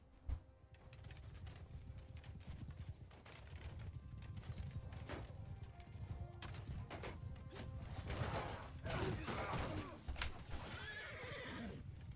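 Horses whinny and hooves thud amid clattering sound effects from a Mount & Blade II: Bannerlord battle with horse archers, growing busier and louder toward the end.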